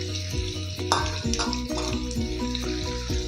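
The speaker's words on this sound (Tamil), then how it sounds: "இப்போ அடுப்பை நம்ம குறைச்சி வச்சுட்டு பன்னீரை போட்டு அதை ஃப்ரை பண்ணி எடுத்துக்கணும்" Paneer pieces fry in hot oil on a lowered flame for paneer vegetable biryani, giving a close, continuous bubbling sizzle with small irregular crackles and a faint tonal hum underneath.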